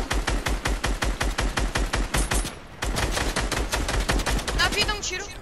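Rapid bursts of video game gunfire, shots fired in quick repeated volleys with a brief pause midway, loud and close.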